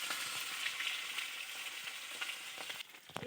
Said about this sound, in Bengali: এই যে মাছটা ভাজবো, কাঠের উনুনে রান্না